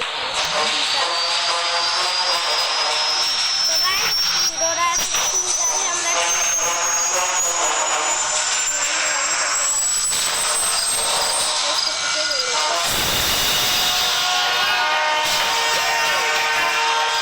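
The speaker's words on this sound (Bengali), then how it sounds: "তাহলে আমি হেলিকপ্টার চালাবো" A helicopter's engine whines in the Granny Chapter Two video game, a loud steady drone with a rising tone that breaks into a harsh burst near the end.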